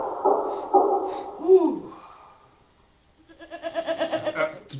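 A goat bleats several times, loud and close. The calls come in short wavering bursts, first alone, then a quieter pulsing stretch follows.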